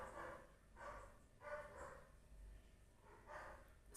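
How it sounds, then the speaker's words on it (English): Neighbor's dogs bark in the background outdoors, a series of repeated muffled barks at an uneven rhythm, distant and faint. "Sorry about those dogs barking in the background."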